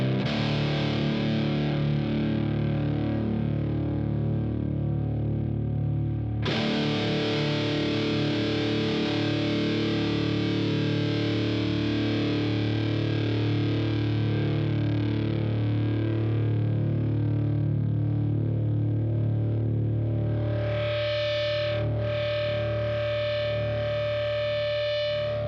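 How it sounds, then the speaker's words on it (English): An electric guitar runs through laptop amp software and sounds as a loud, dense distorted drone with sustained feedback. It thickens abruptly early on, and a piercing high feedback tone rises near the end, with no talking. "it actually works really well with the feedback. The feedback sounds"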